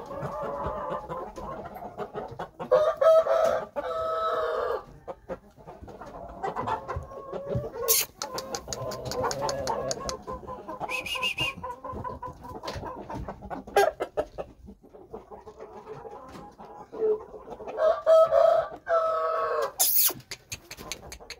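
An eight-month-old Shamo gamecock stag clucks and calls repeatedly outdoors, with bursts of rooster vocalizing interspersed with softer clucking and occasional sharp clicks, moderately close.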